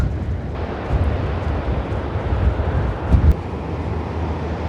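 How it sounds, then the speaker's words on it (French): Strong coastal wind on the Atlantic coast of Iberia buffets the microphone in loud, low rumbling gusts, continuous and close, with no voices. "j'arrive pas à tenir l'appareil tellement le vent est fort"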